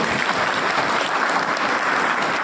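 An audience at a BJP party workers' conference in Sujangarh claps to welcome a speaker, dense sustained applause from a large crowd, loud and even for the whole stretch, with no talking heard.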